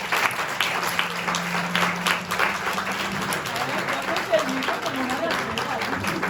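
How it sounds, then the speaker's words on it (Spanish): Audience applause at a Spanish-language literary event, a steady wash of clapping lasting several seconds with faint voices mixed in. "un gran aplauso para Luna Miguel."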